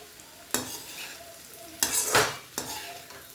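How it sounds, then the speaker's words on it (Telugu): Bitter gourd (kakarakaya) pieces fry in a pan over a soft continuous sizzle, broken by three loud stirring scrapes of a spoon against the pan, close and clear with no talking. "ముక్క అయితే మగ్గిపోయిందండి, కానీ ఇంకా బాగా వేగాలి."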